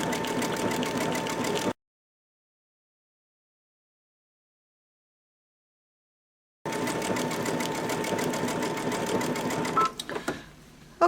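A Babylock or Brother sewing machine runs steadily while stitching decorative stitches, a fast even mechanical whir that cuts off to silence for several seconds and then resumes before slowing to a stop.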